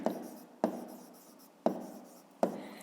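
Pen strokes on paper while working a fifth-grade maths exercise, four short scratchy bursts each starting with a sharp tap and trailing off, close and fairly quiet with no voice.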